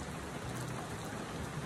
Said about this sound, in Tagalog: Buhos ng ulan.